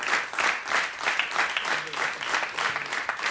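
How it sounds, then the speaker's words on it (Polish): A studio audience applauds jazz pianist Leszek Możdżer with steady, dense clapping that holds at an even level throughout, close and full. "Wielkie brawa. Jeszcze raz."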